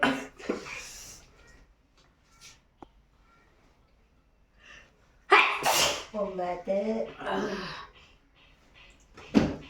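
Sharp, close sneezes burst out at intervals during a sneezing challenge at home, with stretches of voices talking and laughing between them and a final loud sneeze at the end.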